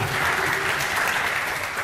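An audience claps at a machine learning talk on deploying a model to AWS Lambda, a dense, continuous burst of applause that is loud and sustained across the moment, with no voices over it.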